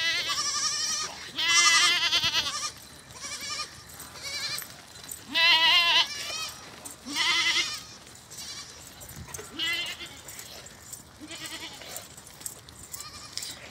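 Goats and sheep of mixed breeds bleat repeatedly on a livestock farm, loud, wavering calls overlapping in bursts with short pauses between them. A voice is heard faintly underneath.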